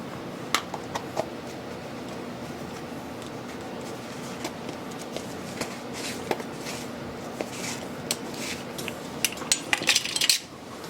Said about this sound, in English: I'm going to mix that up just a little bit before I add it.